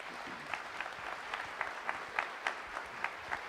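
Scattered applause at an Indigenous graduation ceremony, a soft, fairly distant patter of clapping from the audience with individual claps standing out.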